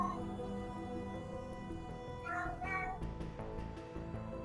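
A cat gives a couple of short meows at moderate distance, sitting over a steady background hum.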